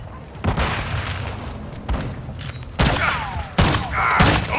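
Bursts of gunfire and booming blasts in Call of Duty: Modern Warfare II, loud repeated volleys that crack and roll out at irregular intervals with no speech over them.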